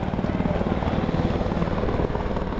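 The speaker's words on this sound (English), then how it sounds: "the recent tragic helicopter accident in the skies over New York" A helicopter flies over New York, its steady rotor thump and engine drone loud and continuous, filling the sound with a dense low rumble.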